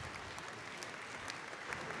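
Delegates applauding in a model UN assembly hall, a dense, even patter of many hands clapping, fairly faint and continuous throughout.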